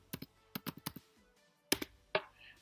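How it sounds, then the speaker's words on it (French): Keys tapped on a computer keyboard in two short bursts separated by a pause, a few crisp clicks each, close and quiet with no talking. "On va taper ici RStudio."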